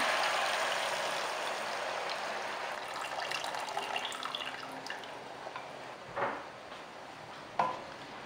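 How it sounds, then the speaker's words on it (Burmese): Hot water pours steadily into a cooking pot of frying pork, a soft, hissing stream that fades, followed by a couple of faint drips or clinks near the end. "ရေနွေးလေးထည့်ချပေးပါမယ်"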